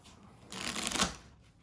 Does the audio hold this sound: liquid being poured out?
no